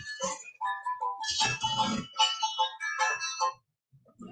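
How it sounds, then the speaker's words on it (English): A mobile phone ringtone plays a short melodic tune of bright tonal notes in quick phrases, fairly loud and close, then cuts off into silence near the end. "my phone's ringing."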